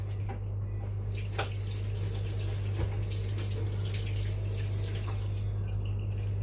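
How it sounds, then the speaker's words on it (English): Hands being washed under a running kitchen tap give a steady patter and splash of water, with occasional drips, over a constant low electrical hum, and nobody speaks. "I'm going to wash my hands"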